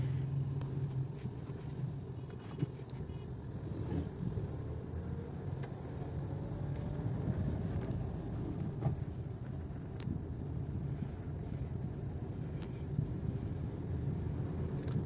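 A car drives along a road with a steady low rumble and faint wind noise from inside the cabin, continuous and fairly quiet throughout.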